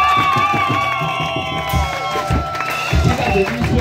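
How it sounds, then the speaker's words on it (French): A crowd at an open-air Christian crusade in Bandjoun, Cameroon cheers and shouts, loud and lively, with rhythmic clapping and excited voices rising together. "J'appelle ici l'apôtre Nono Bertrand sous vos acclamations, s'il vous plaît."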